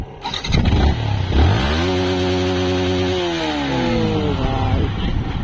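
A motorcycle with an aftermarket exhaust and open air filter fires up and revs hard. The engine climbs to a sustained high, buzzing rev, wavers, then eases off, loud and close with no talking.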